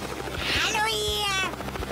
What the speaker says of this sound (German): Woher habt ihr den Helikopter?